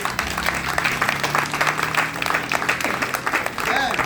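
A church congregation claps and cheers loudly and continuously, with voices calling out amid the applause.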